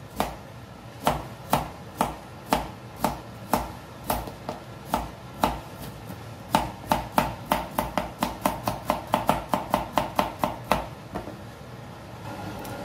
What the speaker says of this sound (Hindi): सब गाजरों को हमने इसी तरह काट लेना।